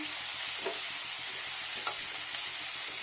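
Fried eggplant, tomato and potato go into a pan and are stirred, with a soft continuous sizzle and a couple of brief utensil scrapes, close and without speech.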